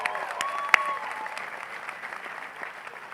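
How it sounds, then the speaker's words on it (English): A graduation-ceremony crowd at Centennial High School applauds a singer with steady, dense clapping and a few sharper claps standing out, fading slightly over the few seconds. "Let's give Sarah a round of applause."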